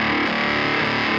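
Electric guitar played through a Torc Mòr distortion pedal with the gain turned all the way up gives a thick, saturated, buzzing tone that sustains loudly for a moment on its own.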